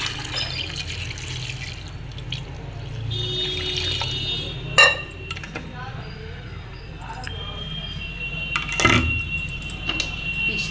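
Water is poured into a pot of chickpeas before boiling, a gentle splashing and dripping with a few clinks of the pot, while a voice speaks over parts of it.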